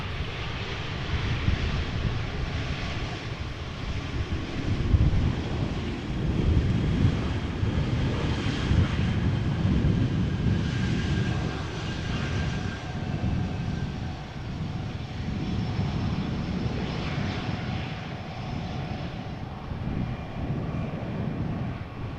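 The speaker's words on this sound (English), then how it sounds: "Croatia Airlines arriving from Zagreb." A Croatia Airlines airliner arriving at Amsterdam Schiphol Airport in crosswind, heard as a sustained low engine roar over a rushing wind noise across the whole span, with no talk.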